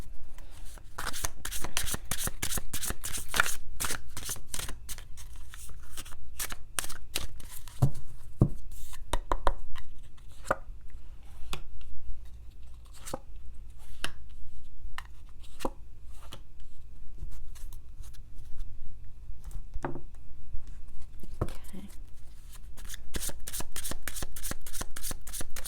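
Tarot cards are handled and shuffled close up, giving a continuous series of crisp snapping riffles and light taps that pause briefly and then resume, with no speech.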